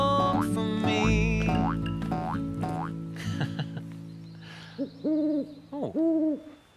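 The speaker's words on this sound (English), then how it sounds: "Oh, wow, it's a mopoke owl." A mopoke owl calls from the Australian bush in a series of soft, hollow two-note hoots, the calls repeating at a moderate distance with a few other bush sounds at the start and no talking.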